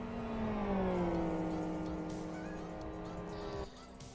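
Race car with engine damage in the racing sim Live for Speed, heard from the cockpit as a loud, strained engine note that sinks gradually in pitch, then cuts sharply near the end.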